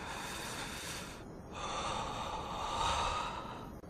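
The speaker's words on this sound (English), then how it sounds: "I can hear you breathing." Heavy, noisy breathing sounds close by, with long drawn-out inhales and exhales like gasping or snorting air, alone without any talk.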